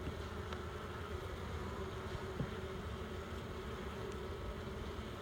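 Honeybees hum at an opened beehive, a dense steady buzz close by and moderately loud, with no talk over it.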